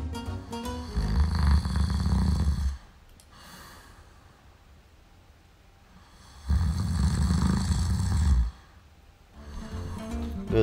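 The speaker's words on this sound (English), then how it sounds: "I've never seen someone snore like that." A man sleeping in a hotel room snores loudly in two long, drawn-out rasping breaths separated by a quiet pause, with a third snore beginning at the end.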